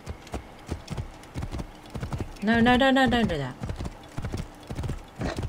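The Stallion of Anubis, a horse in Assassin's Creed Origins, clops its hooves in a steady rhythm and lets out one loud, wavering neigh midway, while a person talks over the hoofbeats.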